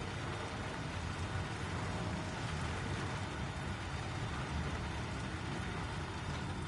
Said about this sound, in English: But now the rain has started with its tornado warning